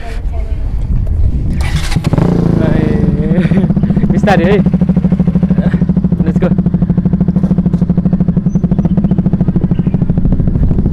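A motorbike starts up nearby with a burst of clatter, then settles into a loud, steady, throbbing engine idle as it gets ready to ride off, while people talk over it.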